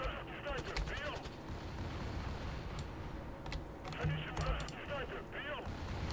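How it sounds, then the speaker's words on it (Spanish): Gunfire in Battlefield Play4Free on the Karkand map, a faint distant clatter of shots and bursts under steady battle noise, with someone speaking over much of it. "que están disparando por ahí atrás"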